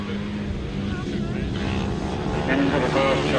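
Grasstrack racing motorcycles at a 2003 meeting revving hard off the start and up the back straight, a steady loud engine roar that swells toward the end, with a commentator talking over it.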